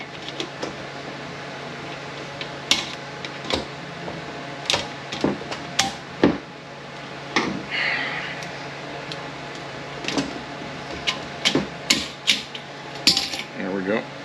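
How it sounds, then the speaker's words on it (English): Sharp metallic clicks and taps from a screwdriver working a snap ring off the retainer of a 4L30E transmission during disassembly, scattered close-up strikes and scrapes with no talking. "Just take a screwdriver and push off your snap ring for your retainer here."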